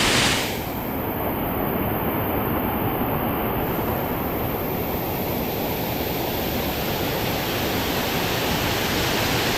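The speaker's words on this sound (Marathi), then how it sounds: "एकदम भारी धबधबा आहे जरा गार आहे पाणी" A powerful waterfall at an unfamiliar spot near Asud village on the coast, its cold water pouring in a loud, steady broadband roar that holds close and unbroken throughout.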